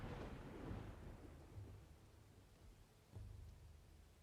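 A thunderstorm in the survival strategy game Dawn of Man, deep rumbling thunder rolling over steady rain, quiet and distant, with a fresh low rumble rising near the end.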